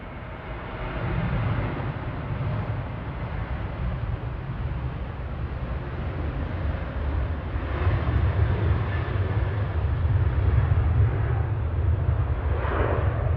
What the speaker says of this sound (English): Ryanair 553 to Dublin, 737-800